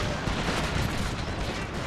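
Cannon fire in a Total War battle set in the Thirty Years' War, with Habsburg forces on the field: a dense, continuous rumble of booming shots and volleys that roll together into a steady roar.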